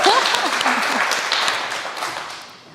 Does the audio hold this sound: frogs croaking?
no